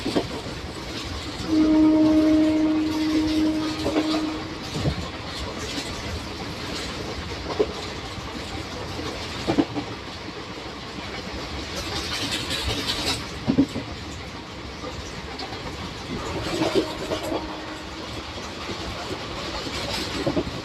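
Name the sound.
Koyna Express train running through a station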